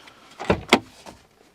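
A car door is handled with a couple of firm thumps and a latch click, close by, followed by a quieter knock and then near silence.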